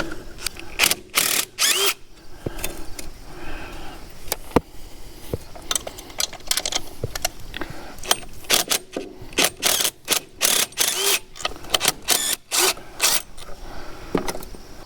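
A ratchet fitted with a deep socket loosens bolts on a New Idea model 50 sickle mower in a farm workshop, with bursts of rapid close clicking that stop and start repeatedly over the whole stretch.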